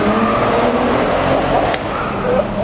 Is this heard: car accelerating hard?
yes